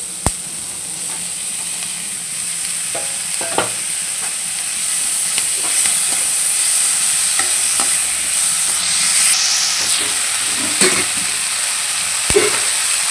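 Ingredients sauté in a pan for rose chutney, with onions or similar being fried down: a steady, continuous sizzle with scattered scrapes and taps of a spatula against the pan, close and fairly loud, no voices.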